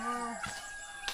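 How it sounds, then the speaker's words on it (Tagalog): Chickens cluck and a rooster-like call sounds briefly, close by, with a few short bird noises over a faint background. "Dami niyang manok."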